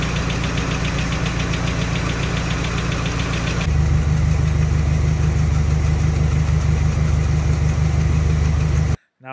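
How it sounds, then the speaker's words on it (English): A truck engine idles after a valve adjustment, a loud, close, steady rumble with a rhythmic knocking pulse, settling to a slightly smoother tone partway through before cutting off abruptly near the end. "so now the motor is a lot quieter than it used to be"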